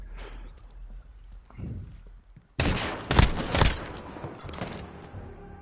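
Gunfire in the video game Modern Warfare: a rapid burst of loud, sharp shots crackles in close after a quieter stretch of game sounds, then trails off into lingering noise.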